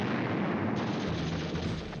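A massive explosion in the early hours of July 30, 1916, rendered as a dense, continuous roar of blasts and rumbling that fills the whole span at loud level, with no voices.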